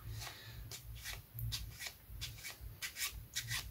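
A deck of playing cards being overhand shuffled by hand, small packets pulled off with the thumb in quick soft riffling bursts, close and quiet with no talking.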